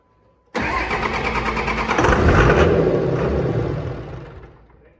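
A 24 valve Cummins diesel engine firing for the first time after a P pump swap: a brief crank, then a sudden loud catch into a rough, heavy rumble that swells, holds, then settles and fades toward idle.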